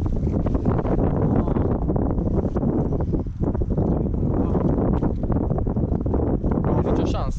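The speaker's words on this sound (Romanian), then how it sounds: "Trebuie să așteptăm să domolească vântul." Strong, steady wind roars and buffets a microphone outdoors on a ski slope, a dense unbroken rush from start to finish with only a brief dip midway.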